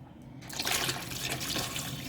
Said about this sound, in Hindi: अब इसके अंदर मैं पानी ऐड करूँगी।